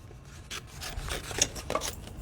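Card stock being trimmed by hand for a punch builder while making an ice cream motion card, giving soft scraping, rubbing cuts in short strokes, close and fairly quiet with no talk.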